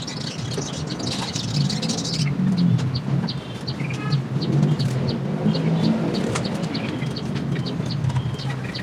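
Soft repeated cooing of zebra doves with chirps from small birds, steady and moderately near, with a low rustling background and no talking.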